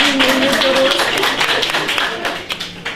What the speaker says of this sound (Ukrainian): А оплески.